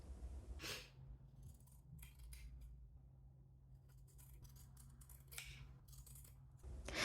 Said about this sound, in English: this is the time that I cut the stitched part